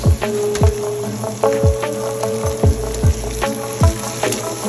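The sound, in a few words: sautéing onions and tomato in a pan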